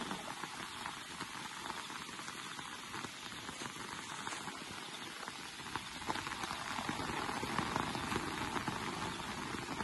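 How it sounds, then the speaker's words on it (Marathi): Steady, dense rain pattering on a surface, a continuous broadband hiss that swells slightly louder toward the end, with no voices. "खूप पाऊस पडतो इकडे गावाला."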